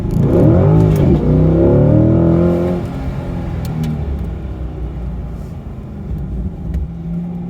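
A C8 Corvette accelerates hard in second gear on an autocross course, its engine rising in a loud close revving sweep for about three seconds before easing into a steadier, quieter drone.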